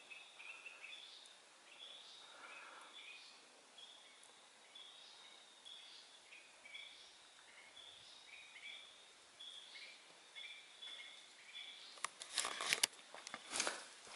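Birds chirp loudly outdoors on a rural wooded property, repeated high twittering calls overlapping at middle distance over soft background noise, with a burst of nearby rustling near the end.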